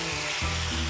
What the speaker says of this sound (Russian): Сейчас я обжарю телячью печень на сухой сковороде.